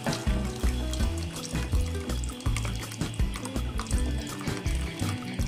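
Milk poured into a pan over a low flame, a steady liquid stream with splashing and trickling close by, fairly loud and continuous throughout, no talking.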